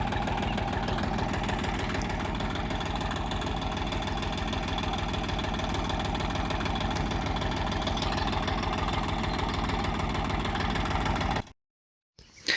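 A Kentavr 244 tractor with a homemade cab runs steadily close by, its diesel engine giving a rough, knocking chug with strong vibration, continuous and loud until it drops out briefly near the end.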